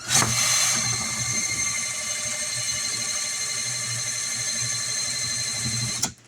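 A small power drill spins a small wind turbine at about 350 RPM for about six seconds, a close mechanical spinning hum with a high whine, starting abruptly and cutting off at the end.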